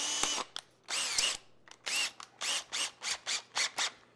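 A power drill whirs in a series of short bursts, speeding up and slowing, the later pulses evenly spaced and close by.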